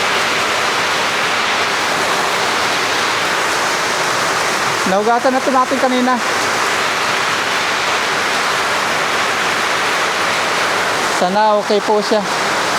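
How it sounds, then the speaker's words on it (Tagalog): Steady rain pours in a continuous, loud hiss over an outdoor spot sheltered by a tarp, while a person speaks briefly in two short bursts over the downpour. "Ayan na, ulan naman."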